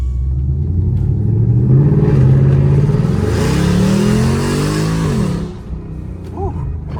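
A tuned Mustang GT with an open Valvetronic exhaust accelerates hard nearby, its loud V8 roar climbing through a rising rev sweep for several seconds before easing off into a lower rumble.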